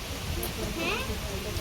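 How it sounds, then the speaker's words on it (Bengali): Heavy rain pours down in a steady, dense hiss that fills the whole clip, with a voice faintly audible under the downpour. "এমন বৃষ্টি নেমেছে যে দেখো এখন মুষলধারে নেমে গেছে"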